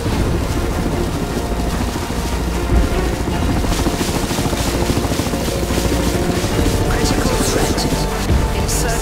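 Helicopters from the video game Crysis 3, napalm choppers roaring loudly with a fast, continuous rotor chop and rushing wind-like noise that holds steady throughout.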